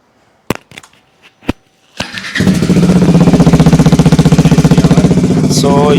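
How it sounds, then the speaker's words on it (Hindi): A Bajaj Dominar 400 motorcycle fitted with a new barrel exhaust starts after a few clicks and knocks, then settles into a loud, steady, deep-throbbing idle that runs close and unbroken to the end. "सो ये है इसकी बैरल एग्जॉस्ट की आवाज़।"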